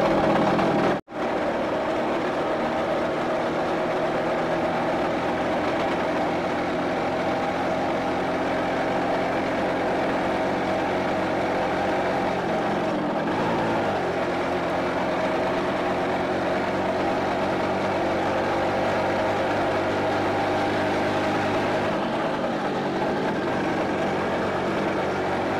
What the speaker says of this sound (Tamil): நம்ம ஏடிவியை டிரைவ் பண்ணும்போது சுசுக்கியோட இன்ஜினோட பவரை வந்து நம்ம உணர முடியுது